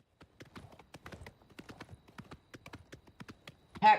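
Horse hooves clip-clop in Oblivion Remastered, a quick, uneven run of near, soft thuds with no voices, ending in a louder burst of sound.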